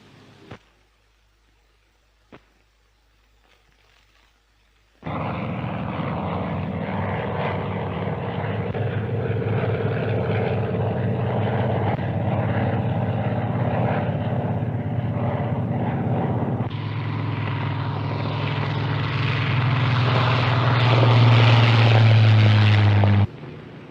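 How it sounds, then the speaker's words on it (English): Propeller aircraft of a naval squadron fly into the carrier landing circuit. The engine drone starts suddenly after a quiet stretch and holds steady and loud, then rises into a louder, higher-pitched roar near the end as the aircraft pass close. "Flights of a squadron are led down into the landing circuit from the waiting or squadron break-up position without further orders"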